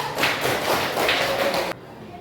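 Classroom applause for a student group after a presentation, a brief burst of many hands clapping that stops abruptly.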